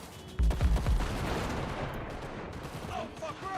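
In the Cyberpunk 2077 video game, a rapid burst of several loud, close gunshots cracks out early, followed by a dense noisy city din with scattered fainter sounds.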